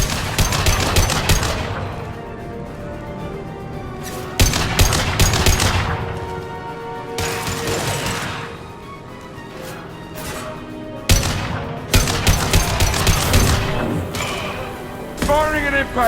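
Bursts of automatic gunfire in a Mass Effect 2 firefight come in several loud volleys separated by short lulls, with thuds and impacts, while voices talk intermittently.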